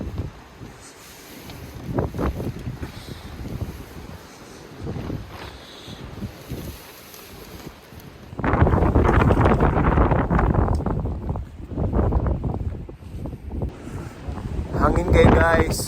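Strong wind buffets the microphone at a lakeside campsite by Lake Pearson in New Zealand, a broad rushing roar that surges sharply louder in the second half, with people talking underneath.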